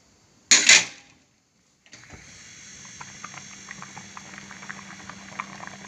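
Semiya payasam simmering in a pot on the stove gives a steady soft bubbling and popping that grows slightly denser, after a short sharp clatter at the start.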